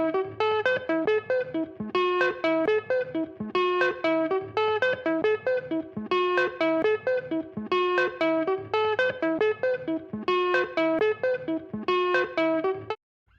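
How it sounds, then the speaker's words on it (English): A heavily processed electronic effect: stacked, buzzing harmonic tones pulse in repeating bursts with a rhythmic, gated pattern, loud and steady, then cut off abruptly. "Building much more complex chains to mix into the dry, like this spectral mesh generator."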